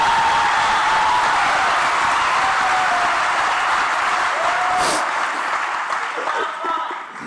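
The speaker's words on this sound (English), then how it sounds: "Can we please get a round of applause for Bobby Kennedy and Donald Trump" Sustained crowd applause and cheering at a political event, loud and steady, with a brief whistle near the end.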